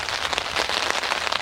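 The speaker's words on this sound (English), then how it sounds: "It's really sunny out here and it's chucking it down with rain." Heavy rain pours down in sunshine in England, a dense, loud, continuous patter of drops hitting a surface close by, with no voices.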